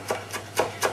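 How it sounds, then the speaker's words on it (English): Four crisp knife strokes through a tight bunch of fresh parsley on a cutting board, evenly spaced, close and clear. "we're going to begin the chopping process now"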